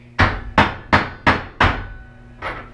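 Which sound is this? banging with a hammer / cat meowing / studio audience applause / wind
banging with a hammer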